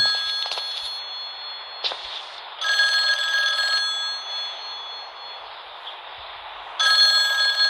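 A telephone bell rings in repeated bursts with short gaps between them, heard alone and fairly clear in an otherwise quiet indoor setting.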